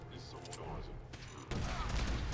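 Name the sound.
explosion and gunfire in video game Fallout 4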